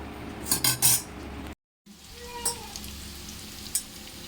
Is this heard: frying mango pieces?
yes